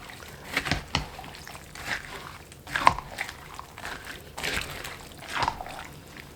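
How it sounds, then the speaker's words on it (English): A spoon stirring a wet stew in a slow cooker with plenty of stock, giving soft irregular sloshes and squelches and an occasional light clink, close and moderately quiet. "I am just stirring some of this up."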